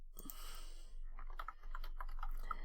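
Quick bursts of keystrokes clatter on a computer keyboard while someone types on a Windows 11 machine, the clicks close and fairly steady with a few brief pauses, and no voice over them.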